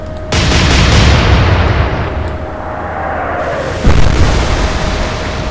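Warship guns fire in the Atlantic Fleet naval video game, a heavy booming salvo that opens with a sharp onset and rumbles on, followed a few seconds later by a second loud blast.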